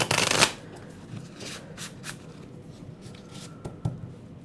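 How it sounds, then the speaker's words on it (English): A deck of tarot-style cards is shuffled close up, with a loud riffling burst at the start followed by quieter, scattered slides and taps of cards. "we're going to shuffle one more time."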